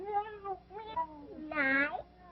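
A cat meows once in a long, rising-then-falling cry near the end, from the soundtrack of a 1936 film, following a few softer vocal sounds.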